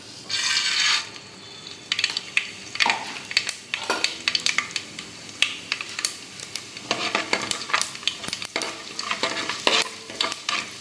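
Spattering, crackling sizzle of mustard seeds hitting hot oil in a pan, with scraping and stirring clatter throughout, close up.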